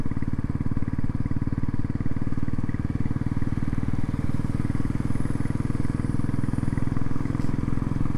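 Motorcycle engine thrumming loud and steady on a misty hill road in traffic during an Independence Day group ride on the way from Pune to Kolhapur, with faint passing engines and wind behind it.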